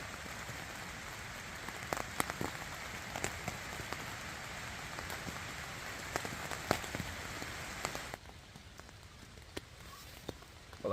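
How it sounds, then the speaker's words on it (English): Steady rain pattering on a tent at night during winter woodland camping, a dense continuous hiss with scattered louder drops, close and alone with no talk, easing slightly near the end. "Well, I think you can hear for yourselves. The rain is here."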